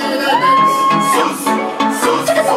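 A crowd of women screaming and cheering in a sustained roar, with rising whoops and shouts, loud and close.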